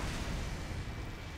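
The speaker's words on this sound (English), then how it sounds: "the quick fix allows you to rocket jump with people" Rocket jump explosion in Team Fortress 2 with the Medic's Quick-Fix, a low rumbling boom that fills the short stretch and fades slightly toward the end, with no talk over it.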